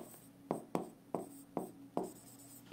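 Chalk tapping and scratching figures onto a board, five or six distinct sharp strokes at roughly half-second intervals, close and fairly quiet, with no talk.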